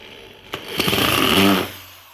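Power drill boring holes while assembling a metal-legged side table, a short whirring burst that rises and holds for about a second before winding down, close by with no talk.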